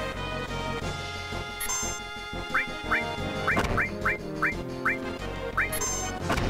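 Bird enemies in the video game Final Fantasy 7 let out repeated short, rising squawks and quacking chirps over steady game music, heard clearly with no speech.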